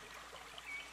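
Creek running between two mountains, a soft steady trickle and gurgle of flowing water, faint and continuous with no other sounds.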